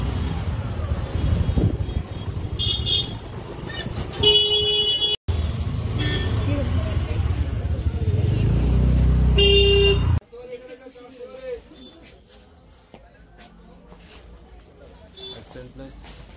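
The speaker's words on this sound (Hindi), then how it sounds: "मार्केट में हम लोग आ गए हैं, अभी बहुत ही तेज आवाजें आ रही होंगी और बहुत रश भी है यहाँ पर" Busy market street traffic in Haldwani, with engine noise and crowd bustle broken by several short car horn toots; people talk throughout, and the din drops away near the end.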